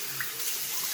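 Water runs steadily from a tap to wet a shaving bowl, a continuous close hiss with no break across the brief moment.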